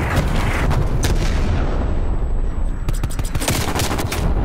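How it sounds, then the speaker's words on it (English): Airstrike bombing in the Call of Duty: Black Ops Cold War Domination game, a dense, loud barrage of booming blasts and rapid gunfire that rolls on without a break, with heavier impacts bunching near the end. "And there's still carpet bombing the place."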